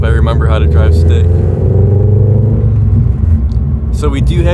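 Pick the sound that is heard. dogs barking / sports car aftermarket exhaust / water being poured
sports car aftermarket exhaust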